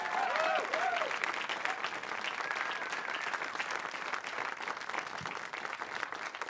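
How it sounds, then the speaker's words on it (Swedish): Audience applause at a blues tribute show, a crowd clapping steadily and fairly distant, with a few faint whistles and cheers near the start. "en stor applåd!"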